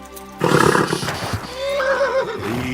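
A horse neighs loudly in Kingdom Come: Deliverance II, a long whinny rising and wavering over about two seconds, close and clear above steady ambient game sound.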